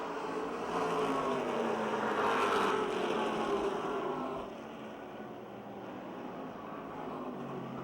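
Stock cars, including a Chevrolet Monte Carlo and a Ford Taurus, racing at Motordrome Speedway in 2006: a steady distant engine roar that swells and then recedes.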